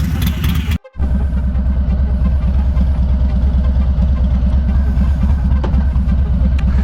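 A 2020 Harley-Davidson Sport Glide FLSB idles close by, its low engine rumble steady and loud throughout, broken by one brief dropout near the start.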